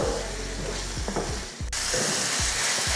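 Masala sautéing with tomato and capsicum in a pan gives a dense, close sizzle with repeated scraping stirs of a spoon, rising louder after a brief dip, with no talking.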